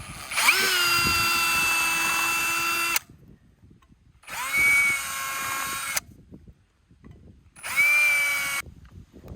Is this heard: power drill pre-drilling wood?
yes